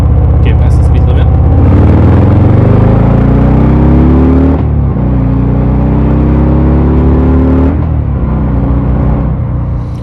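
A 2023 Harley-Davidson Sport Glide 107 motorcycle accelerates hard, its loud, close engine climbing through gears with rising pitch and brief dips at shifts, heavy rumble and wind throughout.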